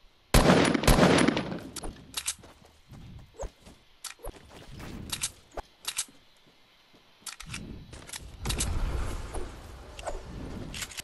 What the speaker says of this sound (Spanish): Y ese disparo.